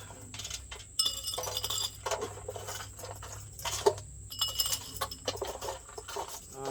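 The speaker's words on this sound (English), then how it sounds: "fill it with ice." Ice cubes clinking and rattling into a glass while a Hurricane cocktail is made, a run of close, bright clinks and taps with brief pauses between them.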